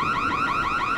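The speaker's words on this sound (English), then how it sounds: "Charlie really didn't think to warn us about the alarm, huh?" Car alarm in the video game Dying Light, a loud continuous warbling siren tone sweeping up and down rapidly, steady and close with nothing else over it.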